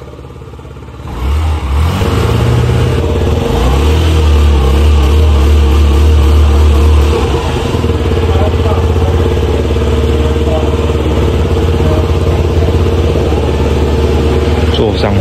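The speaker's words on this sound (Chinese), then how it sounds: "坐上去吹油门会不顺" A water-cooled, fuel-injected Yamaha Vino 50 scooter, left standing for half a year and hesitating on the throttle, runs steadily close by, idling and revving. A person talks over the continuous engine drone throughout.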